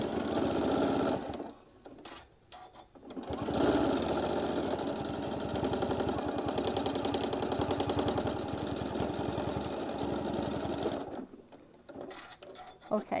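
A sewing machine runs steadily for several seconds while topstitching through many layers of fabric on a mini iron travel case. It makes a fast, even mechanical chatter, with quieter pauses before it starts and after it stops.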